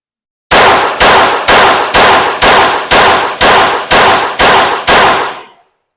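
Ten evenly spaced pistol shots from a Glock, fired at a steady match-style pace roughly every half second, each a loud sharp crack with a short ringing decay, close and with no talking.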